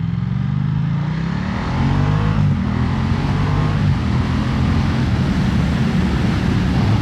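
A Ducati Diavel 1260S motorcycle accelerates hard up close, its loud engine note climbing through gears over heavy wind rush, with no talking.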